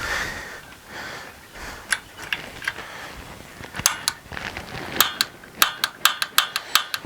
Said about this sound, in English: We're going to put it on the pilot lighting.